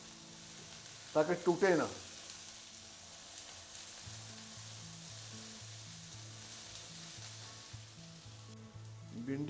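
Okra frying in ghee in a pan gives off a steady, close sizzle, with a short burst of speech early on and another voice at the end.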